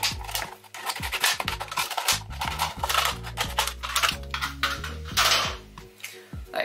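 Scissors snipping around a moss pole while repotting a plant, a quick run of close, crisp cuts and rustling clicks, loud and irregular with no talking.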